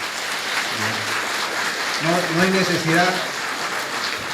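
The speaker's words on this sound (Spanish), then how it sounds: "vamos a recibirle con un fuerte aplauso" A church congregation applauds to welcome the pastor, with a steady patter of clapping throughout while someone speaks briefly over it in the middle.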